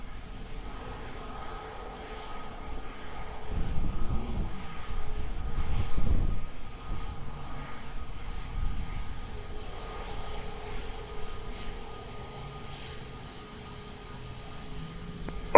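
Boeing 757 airliner at Lisbon Airport, a distant low jet engine rumble that swells and fades steadily with no talk over it.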